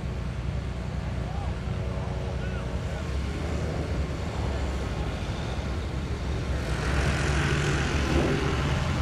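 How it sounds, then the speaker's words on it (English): Aerolite 103 ultralight aircraft taxiing for takeoff at Oshkosh 2023: a steady engine drone with a low rumble that swells slightly toward the end, heard continuously in open air with some talk mixed in. "The wind has shifted and Alina taxis for takeoff in a clockwise flight pattern"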